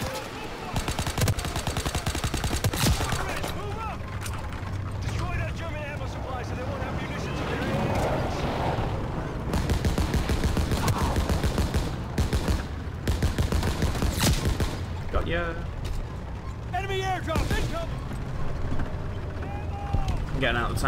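Tank turret fire in Call of Duty WW2, heavy bursts of gunfire and booming shots coming in clusters through a busy battle mix, loud and close, with someone talking over parts of it.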